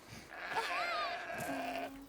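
Goat bleating in the video game A Plague Tale: Requiem; a single wavering, quavering bleat of about two seconds at moderate volume, with faint voices in the background.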